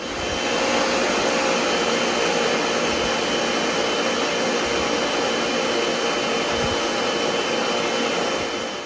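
A loud, steady high-speed motor roar runs without a break for several seconds, a blender pureeing tomatoes at full power with no one speaking.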